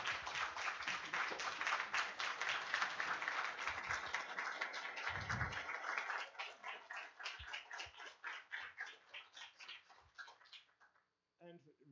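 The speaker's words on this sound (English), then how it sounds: "I would really want to give a round of applause, perhaps even a standing round of applause, to Rune for his..." Conference audience applauding in a hall, dense steady clapping from many hands that thins out into scattered claps before fading near the end.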